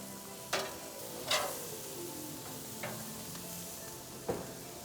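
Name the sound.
burger patties sizzling on Weber Genesis grill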